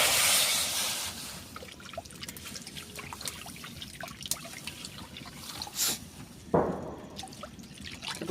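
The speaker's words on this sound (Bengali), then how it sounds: "হালুয়াটা করার জন্য এবার জল দেবো।" Water pours into a pan of dal halwa, starting with a brief rushing splash and then settling into soft trickling and sizzling with scattered clinks, ending with another short gush near the end.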